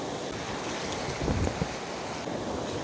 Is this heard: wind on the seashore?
yes